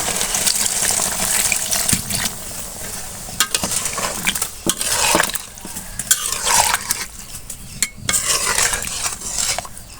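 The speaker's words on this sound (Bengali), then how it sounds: "আমি ঝোলের পানি দিয়ে দিচ্ছি" Water is poured into a pan of chicken and potato curry and stirred, with a sizzling hiss, splashing gushes and the clatter of a spoon scraping the pan in irregular bursts. The sounds are close and fairly loud, with no talk.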